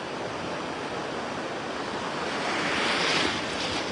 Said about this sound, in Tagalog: Yan, malakas yung alon. Sobra.